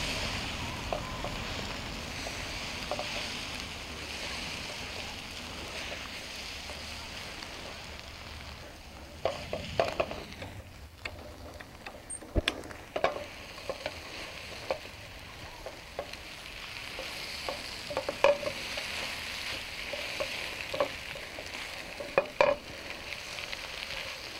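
Eggs cook gently in a breakfast skillet with potatoes, a soft low sizzle in the background broken by occasional spatula scrapes and clicks against the pan, growing more frequent toward the end.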